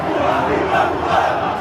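A Corinthians football crowd roars and chants together, a dense, loud, continuous wall of voices filling the whole moment.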